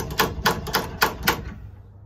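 A hammer taps moisture meter pins into a piece of timber with about six sharp, evenly spaced knocks, close and loud in a quiet room, then silence.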